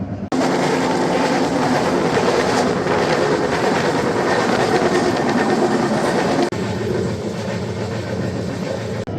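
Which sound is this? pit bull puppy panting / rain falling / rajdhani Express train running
rajdhani Express train running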